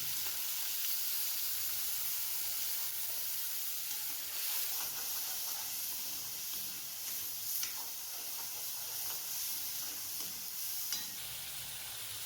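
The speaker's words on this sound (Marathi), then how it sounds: "आता तेल गरम झालेले, तेलामध्ये हा आपण कांदा, लसूण, अद्रक याचा मसाला टाकून घेऊ।" Onion, garlic and ginger masala frying in hot oil for a mixed vegetable dish, a constant gentle sizzle and hiss with light stirring scrapes, fairly quiet and unbroken.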